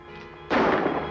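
A single gunshot cracks out suddenly after a quiet moment in an old 1945 western drama, a sharp, loud burst that rings briefly before fading.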